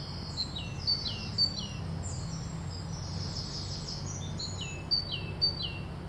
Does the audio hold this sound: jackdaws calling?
yes